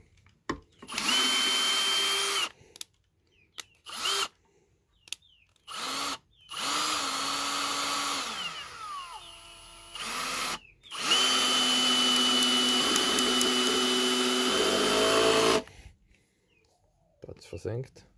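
An Einhell TE-CD cordless drill driving wood screws, with repeated close whirring bursts that rise and stop abruptly, interspersed with clicks and short silences, one long sustained run in the middle.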